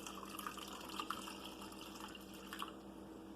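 Pickling liquid is poured into a jar of sliced carrots with ginger and garlic, producing a faint, steady trickle with soft splashes and light drips close by.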